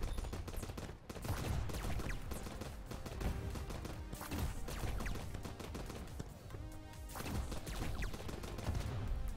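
Sustained gunfire and fusillade-style shooting in the Starward Rogue game, dense rapid bursts running loud and continuous throughout with a brief dip near the start.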